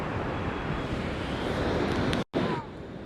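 Broadband wash of sea waves at Puri beach on the Odisha coast, a steady continuous roar with wind buffeting the microphone, broken by one brief dropout near the end.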